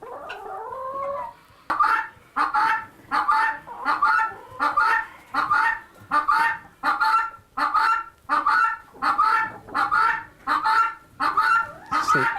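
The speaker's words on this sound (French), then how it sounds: "C'est une pintade qui crie quand il y en a 500 qui crient en même temps." A flock of around five hundred guinea fowl on a farm call loudly together, harsh rhythmic cries pulsing in a steady repeating pattern about once a second, close and relentless, with a brief squawk before the chorus.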